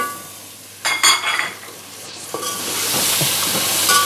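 Tomatoes tipped into hot frying masala for chana pulao, with a burst of clattering stirring and a steady close sizzle and hiss that builds and carries on to the end, no talking.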